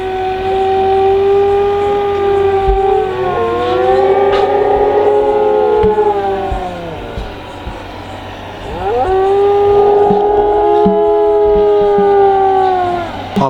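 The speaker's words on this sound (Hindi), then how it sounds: "ये देखो, ये 4 कुत्ते ये रो रहे हैं हमारे घर के वहाँ" Four dogs howl outside a house at night, long wavering howls rising and falling in overlapping waves, fairly loud and near, with a faint low hum underneath.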